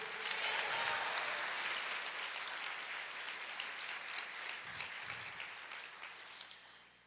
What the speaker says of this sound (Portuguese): Você pode aplaudir o Senhor e dizer: